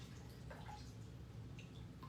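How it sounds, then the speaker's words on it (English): Water drips and trickles off a freshly water-marbled hat lifted from a pail of plain water, a soft continuous patter of small drops close by with no talking. "Let me let some of the water drip off."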